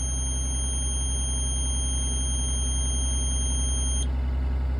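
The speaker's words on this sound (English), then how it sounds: "So when it hits 60 psi, the lower pressure alarm is gonna deactivate." A truck's air brake low-pressure alarm holds a shrill, steady buzzing tone over the deep rumble of an idling engine, then cuts off abruptly near the end while the engine keeps running.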